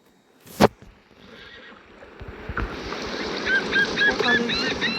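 In a video game, a horse gives a single short whinny near the start, followed by a rising wash of ambient water and surf sounds with faint bird-like chirps.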